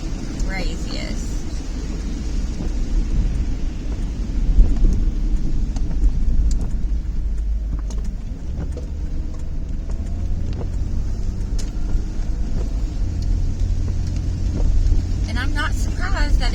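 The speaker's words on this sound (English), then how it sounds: "there's cars everywhere right now" Busy road traffic with cars passing nearby on Christmas Eve, a continuous low rumble of engines and tyres with wind buffeting the microphone and a voice talking over it now and then.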